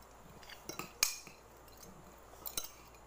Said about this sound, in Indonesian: Tapi sebelumnya kita aduk dulu.